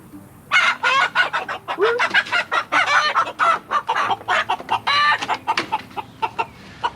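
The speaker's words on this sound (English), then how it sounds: "So, these are some of Zeke's chickens." Several chickens, including a satin showgirl, cluck and squawk close by in quick, overlapping bursts at a coop, with a rooster-like call mixed in, busy and lively throughout.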